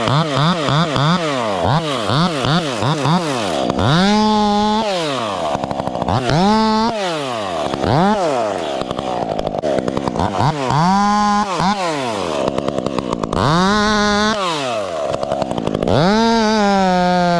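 A chainsaw cuts 4 to 5 inch limbs high in a tree, its loud, close engine revving up and dropping back again and again between cuts.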